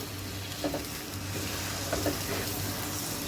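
Chicken for shahi korma sizzles loudly and steadily in a pan over high flame. A couple of soft stirring scrapes break through the constant frying hiss, with no talking.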